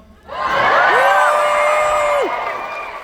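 An audience at the DragonCon convention bursts into loud cheering, whoops and shouts, rising sharply then holding for about two seconds before tapering off.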